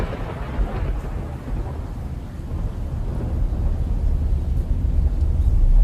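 Thunderstorm with rolling thunder and steady rain, a continuous low rumble that swells louder toward the end, with no voices.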